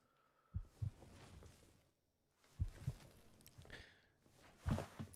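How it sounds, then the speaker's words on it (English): A human heartbeat picked up through a microphone during a horror game, heard as soft paired low thumps recurring every couple of seconds, faint and muffled against quiet background. "That heartbeat you can hear, by the way, is mine through the mic."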